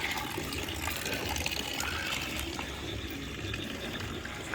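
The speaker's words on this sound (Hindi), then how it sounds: "पूरी छत गीली हो रही है, पानी पानी, और ये यहाँ पे पानी।" Water trickles and dribbles on a rain-soaked rooftop, a steady, soft wet patter that runs on evenly without pauses.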